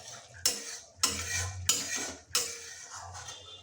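A spoon stirs fish curry with green tomatoes in a metal pan, four distinct scraping strokes over a soft simmering sizzle, close and fairly quiet with no voices.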